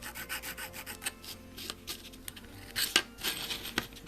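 A small file deburrs the edges of a part during a Nikon Nikkor 35mm f/2 non-AI lens conversion, producing close, quick scraping rasps in uneven bursts with a few light metallic clinks.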